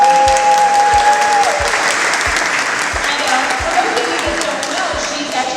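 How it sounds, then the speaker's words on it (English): A studio audience gives warm, loud applause for Chef Michelle Bernstein. The clapping is steady and continuous, with a low rhythmic thump and a brief tone running beneath it. "Please give her a warm applause."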